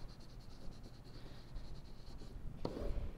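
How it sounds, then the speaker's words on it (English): A marker or pen writes a summary on a classroom diagram during a math lesson on lines and angles, faint scratchy strokes over a low hiss, ending in a louder knock. "So let's write a summary."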